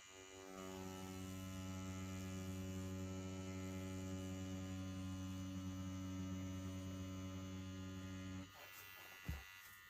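A Bronc V1 wireless tattoo pen machine runs at 6.5 volts with a steady, close electric buzz and strong hum for about eight seconds before it switches off with a small click.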